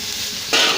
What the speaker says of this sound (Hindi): अब हम अच्छी तरह से इसको मिक्स करेंगे।